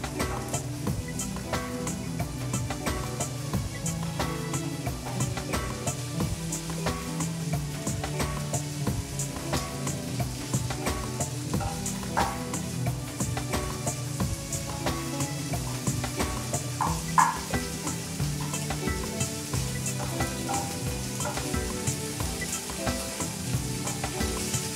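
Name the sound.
sautéing mushrooms and peppers in a pan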